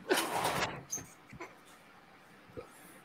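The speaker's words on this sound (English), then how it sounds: "We can only hear his dog now." A dog barks and whimpers over a call line, a few faint, thin yelps and short bursts, with the loudest at the start and quieter ones trailing off.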